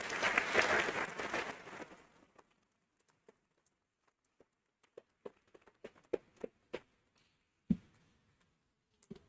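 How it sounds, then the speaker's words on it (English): Audience applause at a 2023 commencement ceremony for a graduating class fades out after a couple of seconds, leaving a few scattered, faint claps and small noises in a quiet hall. "So please, give yourself a round of applause."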